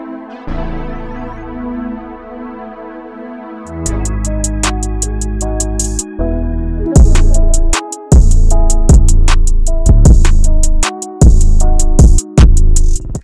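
Two synth loops made with Arturia V Collection: a soft sustained keyboard chord phrase, then a brighter layered pattern joined by punchy rhythmic hits and bass, growing louder and more driving.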